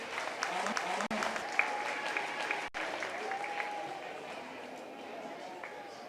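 A crowd at a county fair beef cattle show applauds the judge with steady, dense clapping for several seconds, heard from within the audience, with a few voices mixed in.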